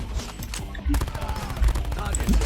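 Switchblade X9 submachine gun firing in Call of Duty: Mobile, loud rapid automatic bursts with brief gaps, continuing throughout at close range.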